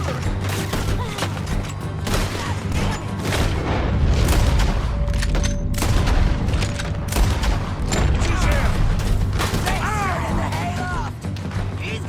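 Rapid, repeated gunshots and heavy booms ring out in the video game Red Dead Redemption 2, forming a dense, loud fusillade mixed with voices.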